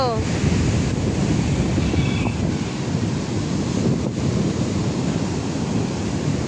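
Ocean surf roars steadily with broadband wash at a resort shore, wind buffeting the microphone throughout; no distinct individual wave breaks stand out.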